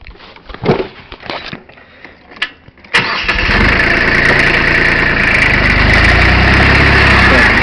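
A small Kubota farm tractor's engine cranks with a few quiet clicks and knocks, then catches abruptly and settles into a loud, steady idle that continues to the end.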